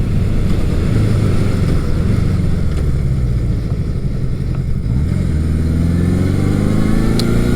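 A Honda CB750 K motorcycle rides at steady speed, its engine droning loud and continuous under heavy wind rush, with the pitch climbing and falling slightly as revs change.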